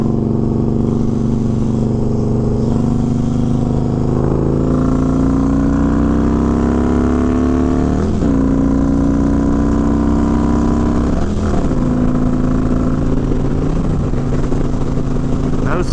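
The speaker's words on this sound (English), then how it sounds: "Let's get on the interstate at 30 miles an hour" Harley motorcycle engine droning steadily as it rides up onto an interstate at about 30 mph, loud and close throughout, with harmonic pitch climbing through the gears and brief dips at shifts.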